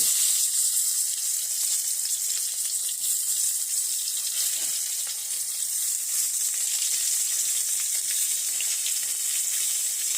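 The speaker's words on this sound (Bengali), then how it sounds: "আপনারাও বেগুন ভাজুন। সব বেগুনগুলো দিয়ে দিচ্ছি।" Eggplant slices fry in hot oil with a constant, hissing sizzle that holds at an even level throughout, close up with no talking.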